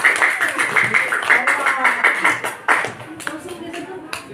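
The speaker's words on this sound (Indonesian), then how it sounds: "Beri tepuk tangan dulu untuk kelompok" Students in a classroom presentation session clap together in quick, sharp, rhythmic handclaps, loud and close, before the clapping thins out into scattered claps and low murmuring voices.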